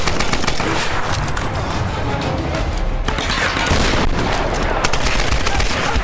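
Sustained heavy gunfire from several guns in Tomb Raider: Definitive Edition, a dense continuous barrage of loud overlapping shots and rattling bursts with no pause.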